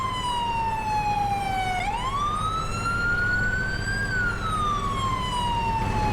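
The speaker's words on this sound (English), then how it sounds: "Still got his siren on and everything." A loud, steady wail of a police siren in the video game Farming Simulator 22 sweeps slowly down, then up, then down again, continuous and close, with a low rumble underneath.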